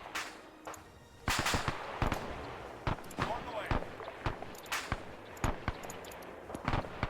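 Scattered gunshots in the Arma 3 video game during a German Iron Front operation in Greece, sharp irregular cracks at varying distances over a low background, some near and loud, others fainter.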